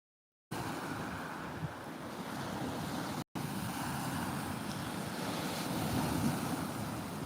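Sea waves churning near the shore, a steady broadband wash of surf with wind noise, continuous and fairly close, with a brief dropout partway through.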